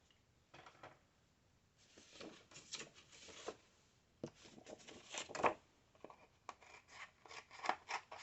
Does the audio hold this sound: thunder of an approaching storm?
no